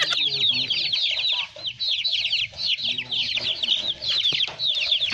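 Chickens and chicks cluck and peep busily up close at a provincial house in the Philippines, a steady overlapping chorus of high cheeps over lower clucks.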